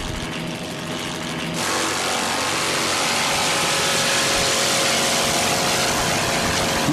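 Offshore racing powerboat Lady L running at Atlantic City, a steady loud roaring engine drone that swells after the first moments and holds high and sustained throughout, without talk.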